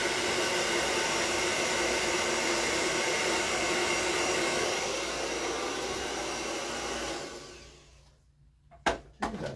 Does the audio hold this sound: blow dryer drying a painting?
yes